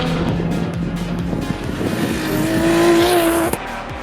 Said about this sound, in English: 2 p.m. rolls around and Group A hits the track again, with Houghton at the front of the pack.